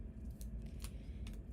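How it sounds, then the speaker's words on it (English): Small scissors snipping paper in a quiet room, three crisp separate cuts spaced over a second and a half above a low hum, no talking. "The smaller scissors definitely feel better than the big chunky one"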